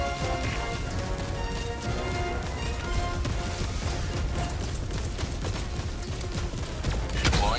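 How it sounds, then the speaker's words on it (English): Orbital barrage explosions in Helldivers II pound steadily and loud for the whole stretch, a dense rumbling fusillade of blasts with crackling debris layered over it and a sharper burst near the end. "Orbital barrage incoming."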